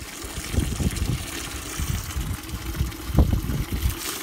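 Water splashing from a newly added outlet behind a greenhouse, an uneven trickling and spattering with a low background rumble, fairly close and unaccompanied by talk.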